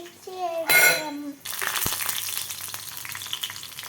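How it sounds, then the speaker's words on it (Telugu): Mustard seeds, garlic, curry leaves and dry red chillies hit hot oil in a chutney tempering, giving a loud burst of sizzling that settles into a steady crackling fry, with brief voices at the start. "పోపుకి ఆవాలు, వెల్లుల్లి, కరివేపాకు, ఎండుమిర్చి వేసాము."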